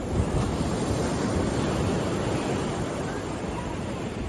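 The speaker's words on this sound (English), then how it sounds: "Waves are just crashing." Waves crash and wash continuously on a beach at San Pancho, Mexico, a steady broadband roar of surf mixed with wind noise on the microphone.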